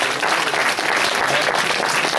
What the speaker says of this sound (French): on va vous applaudir très très fort pour votre beau parcours